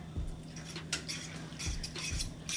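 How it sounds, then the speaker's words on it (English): Brown sugar being stirred into a baked ziti meat sauce, a spoon scraping and clinking against the pot in quick, light strokes close by, with no talking. "I'm gonna add this brown sugar, stir it up"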